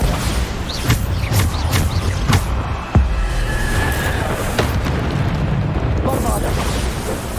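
Bombarda spell explosions in the Hogwarts Legacy video game land as repeated loud booms and blasts within dense, busy combat noise, with a voice talking over them.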